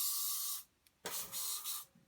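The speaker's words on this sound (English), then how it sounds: "we'll spray it with hairspray" Hairspray from an aerosol can is sprayed onto model scenery bushes in several short, close hissing bursts separated by brief pauses, with no talk.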